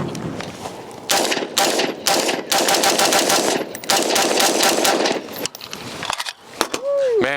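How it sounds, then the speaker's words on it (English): Rapid gunfire from a rifle fitted with a new Aegis upper receiver, loud close bursts of shots in quick rhythmic strings with brief pauses between them, ending in a short ringing tone. "I'm gonna have Gil get his first rounds through it"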